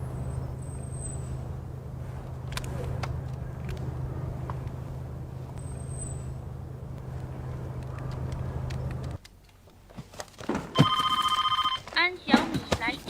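A telephone rings indoors in a home, with several bright, repeated rings near the end after a long stretch of steady low rumbling background; no one speaks.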